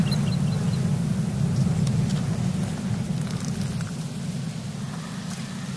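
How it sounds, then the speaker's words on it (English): A stormy outdoor scene in A Plague Tale Requiem: steady heavy rain hiss with a deep low rumble of approaching thunder rolling underneath, continuous and fairly loud, no speech. "there's a storm coming"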